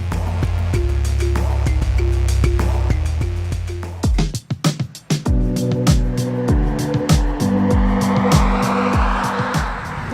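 A 2018 Hyundai Sonata sedan with a 2-liter turbo engine is driven hard. Loud, close engine roar builds, then tires screech and skid in a sharp burst before the engine pulls away again.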